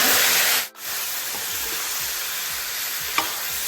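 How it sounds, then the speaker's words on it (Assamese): Marinated chicken frying in a pan of oil with cinnamon and bay leaves makes a loud, steady hiss and sizzle, briefly cut off for a moment near the start before resuming evenly. "মিডিয়াম ফ্লেমতে মই মাংসখিনি দহ পোন্ধৰ মানে এনেকেই ভাজি থাকিম"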